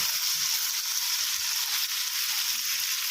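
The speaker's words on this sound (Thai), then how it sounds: "ผัดไปเรื่อย ๆนะครับผม" Chicken jungle curry stir-fried in a pan, a steady bright sizzle and crackle of frying throughout with faint stirring scrapes underneath, close and continuous with no talking.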